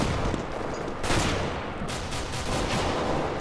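Gunshots in Counter-Strike: Global Offensive: sustained rapid fire with sharper bursts standing out near the start and middle, loud and continuous with no talking over it.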